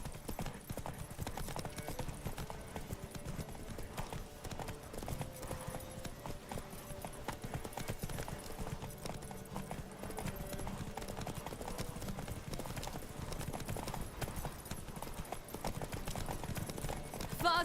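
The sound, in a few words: horse Roach galloping in The Witcher 3 video game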